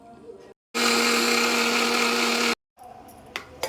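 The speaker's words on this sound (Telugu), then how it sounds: "మిక్సీ జార్లోకి మిక్సీ చేసుకోవాలి" A mixer grinder blending buttermilk whirs loudly and steadily for about two seconds, starting and stopping abruptly, with quiet background noise before and after.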